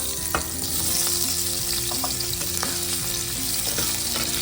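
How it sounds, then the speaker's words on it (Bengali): Potatoes fry in a pan of hot oil for a fish-free Bengali parwal and rice dish, a steady close sizzle with occasional scrapes and clinks of a spatula, with no voices. "আলুগুলো একটু ভেজে নেব"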